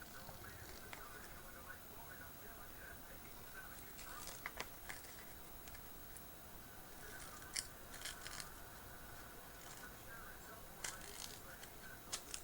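Scissors snip and trim paper for a tag on an art journal collage page, giving soft, close cuts with a few sharper clicks at intervals over a quiet, steady background.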